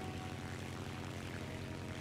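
Propeller-driven aircraft engines from the War Thunder combat flight game, with German planes, drone steadily and loudly with no break, a dense continuous roar holding a low throbbing hum.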